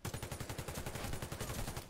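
Rapid automatic gunfire from a Galil AR assault rifle in the video game Warface, with loud close shots in a fast steady rhythm for about two seconds.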